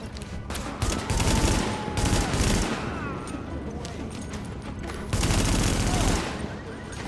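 Gunfire in the video game The Division, with dense bursts of automatic shots in two long volleys separated by a quieter stretch, loud and close.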